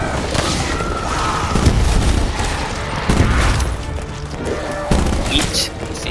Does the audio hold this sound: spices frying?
no